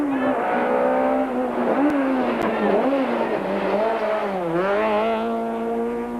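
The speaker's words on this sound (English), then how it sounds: "these powerful 4-wheel drive machines in full cry" A four-wheel drive rally car races through a short back-street stage in Humansdorp at the 1992 Volkswagen Algoa Rally, its loud engine revving close by, pitch sweeping up and down through shifts and bends.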